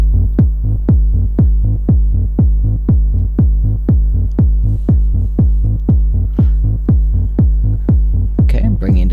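A minimal electronic techno loop from a Eurorack modular synthesizer: deep, punchy synth pulses repeat at a steady, even tempo, with a brief brighter flutter near the end.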